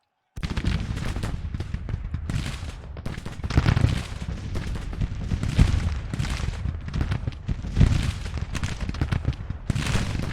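Continuous crackle of musket volleys mixed with booming artillery fire from a Civil War battle in the strategy game Grand Tactician: The Civil War, dense irregular shots and heavier thuds filling the soundscape without talk.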